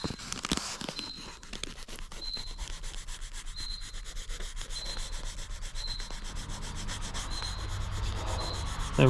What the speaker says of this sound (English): sit here and sand your original white off if you're doing the same colors or your background color